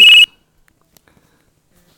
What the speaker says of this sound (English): Loud beep.